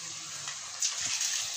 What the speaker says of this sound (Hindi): तो अब हमें इसे गर्म तेल में डालते चले जाना है